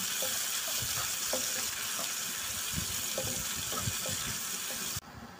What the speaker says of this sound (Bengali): পেঁয়াজটা এবার সুন্দর করে নেড়ে ছেড়ে ভেজে নেব